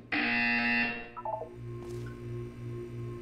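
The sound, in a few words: buzzer in a video game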